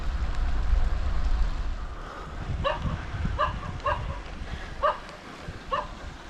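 A dog barks several times in a loose rhythm, moderately distant, over rumbling outdoor background noise on a rainy bike ride.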